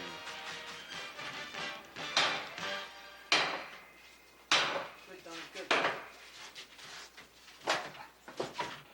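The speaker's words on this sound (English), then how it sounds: "drive the hook end of the tool deep into the jamb and then pull down in an effort to rip the hinge from the door and the frame." A halligan tool's hook end is driven into a door jamb and pulled down to tear a hinge from the door and frame: sharp repeated metal-on-wood impacts, cracks and scraping in irregular bursts, close and loud.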